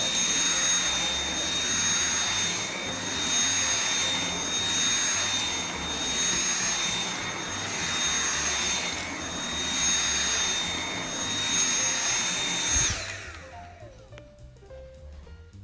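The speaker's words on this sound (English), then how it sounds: "And then I'm just gonna Hoover in here." A Hoover vacuum cleaner runs indoors with a loud, steady whining roar and high tonal hum, gently pulsing as it moves, then shuts off and winds down near the end.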